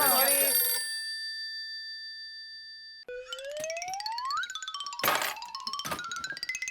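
A telephone rings in a Hindi TV sitcom scene with a bright electronic ring, followed by a gap and then cartoonish rising boing and chirp effects.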